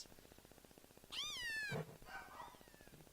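Litten, the fire-type cat Pokemon in the Pokemon Sun and Moon video game, gives a single bright, rising-and-falling meow cry over a soft, pulsing game soundtrack.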